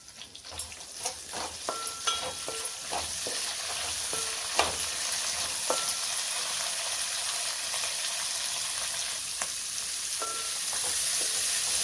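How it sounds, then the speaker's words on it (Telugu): Onions frying in a pan for a Karnataka-style uggani dish, with a steady sizzle throughout and repeated close spatula scrapes and clinks against the pan; no one speaks. "ఉల్లిపాయలు ఫ్రై అయినాయి."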